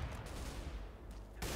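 Gunfire in the video game CS:GO, a quick run of rapid shots over a second and a half, fairly faint and muffled, with no voices.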